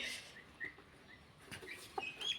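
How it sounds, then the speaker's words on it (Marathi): Chickens, including very large and very small breeds, cluck faintly in a pen with a few short, scattered calls and soft chirps over quiet background hiss. "तर बघू शकता पक्षी किती ॲक्टिव्ह आहेत."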